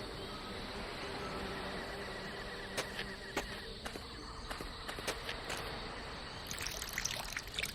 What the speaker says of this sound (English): The earth is sucking the water up like a sponge.